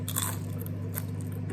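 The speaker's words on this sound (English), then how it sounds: "Very good crunch." Baked sweet potato skins, some of them slightly over-crisp, are bitten and chewed up close, giving a few sharp crunches over a steady low hum.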